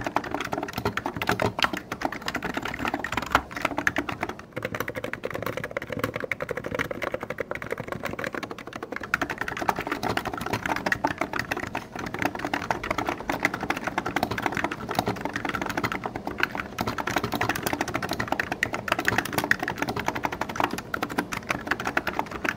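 Continuous typing on mini-layout mechanical keyboards, including a Leopold FC660M with silent red and red switches, a Keychron K6 with brown switches and a Hansung electrostatic capacitive board, as a steady, dense clatter of keystrokes close up with no voices.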